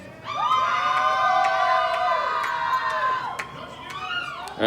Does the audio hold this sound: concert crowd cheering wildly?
yes